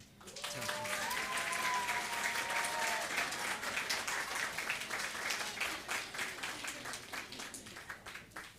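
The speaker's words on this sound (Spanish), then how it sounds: "recibimos con un fuerte aplauso" A church congregation at a New Year's service breaks into loud, dense applause that holds steady for several seconds, then thins out toward the end, with a brief tonal sound rising over it early on.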